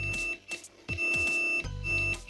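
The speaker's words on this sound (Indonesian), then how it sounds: "kalau kita hubungkan seperti ini kan bunyi buzzer." A multimeter in continuity mode buzzes while testing relay contacts, sounding as several loud, steady high-pitched tones in quick succession, broken by short gaps and probe clicks.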